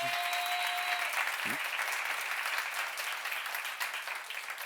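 A church congregation at a seminar breaks into continuous applause, a thick wash of clapping that holds steady and begins to ease toward the end.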